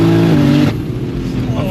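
A 1,500 bhp BMW M3 Touring accelerates hard in second gear, its engine note rising loudly for under a second before an upshift cuts in, then a rougher, lower roar carries on close by.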